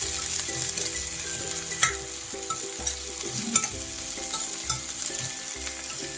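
Chopped onions frying in a pan, a close steady sizzle with a spoon repeatedly stirring and scraping the pan at a loose rhythm.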